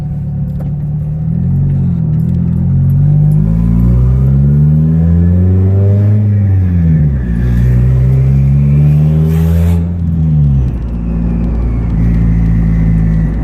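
A turbocharged 1993 Honda Civic engine revs up and down repeatedly, loud and close, with deep rumbling tones rising and falling over several seconds.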